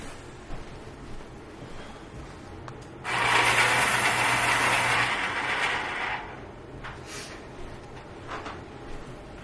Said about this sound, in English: I think I better sharpen that.